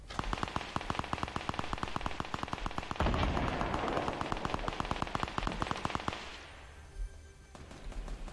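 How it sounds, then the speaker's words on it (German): Rapid automatic gunfire in the video game Fortnite: a fast, evenly spaced string of sharp shots fires for about six seconds, thickens briefly in the middle, then stops, leaving faint sounds. "Schießt auf jeden Fall wer."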